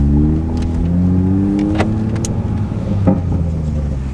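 A group of Toyota Supras pulls away from a gas station, steady engine drone and passing motor noise filling the scene at close range, with brief rising revs and no talking.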